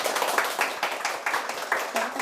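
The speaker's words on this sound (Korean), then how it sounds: "청산유수 김승환 교수님의 강연을 큰 박수로 청해 보겠습니다." Moderate audience clapping at a lecture show, with individual claps standing out in a loose, uneven rhythm over about two seconds and a few faint voices beneath.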